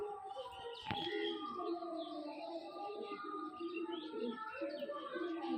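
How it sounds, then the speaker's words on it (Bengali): A female Andhra pigeon coos softly and steadily at close range, with faint chirps and one brief sharp knock near the start against a low background hum. "এটা হচ্ছে মাদি পায়রা"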